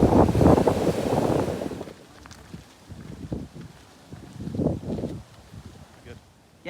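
Wind buffeting a microphone on a boat anchored in Rangiroa atoll, a steady gusty rush that is loudest at first and then eases, with water sounds and voices talking through it.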